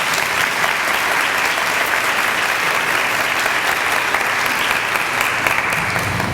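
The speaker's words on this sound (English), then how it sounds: "Let's give them a round of applause." Steady, dense audience applause for a three-member panel at a social activism event, loud and continuous for the full stretch with no talk over it.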